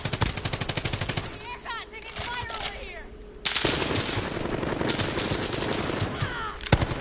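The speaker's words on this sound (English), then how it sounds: "Taking fire over here." Automatic gunfire from a PS4 shooter game crackles in rapid bursts, with a dense rattle at the start and a louder sustained volley later, with faint game voices in between.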